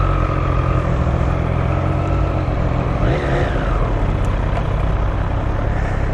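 A Triumph Street Triple RS motorcycle engine runs loud and steady, with the pitch rising and then falling once midway in a brief rev.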